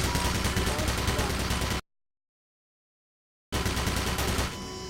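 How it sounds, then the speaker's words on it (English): Automated turrets in the Black Mesa video game fire in dense, rapid automatic bursts, loud and close, cutting off into a brief silence before another burst resumes and then tapers. "I won't get shot by the bloody turrets"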